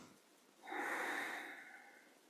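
A single soft, drawn-out inhale during T'ai Chi Chih practice, close and breathy, swelling after a brief quiet moment and tapering off over about a second and a half, no speech.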